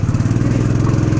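A KTM RC 390 motorcycle engine drones steadily with a rhythmic pulsing note under light throttle on an off-road trail, close and loud, with no talk.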